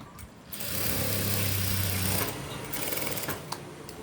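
Sewing machine stitching a boat neck blouse in tailoring work; a steady, close whirring run lasts about two seconds, then trails into quieter handling noise.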